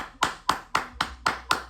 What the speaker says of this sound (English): clap it up, get a couple claps, 3 claps